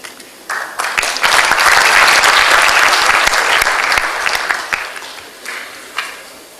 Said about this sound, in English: please cheer up and clap for our participants as much as you can